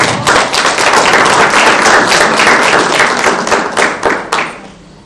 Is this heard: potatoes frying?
no